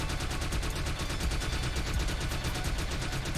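Continuous rapid gunfire from the retro action game The Mummy Demastered during a speedrun, a dense, steady rattle of shots with no breaks, mid-level loudness.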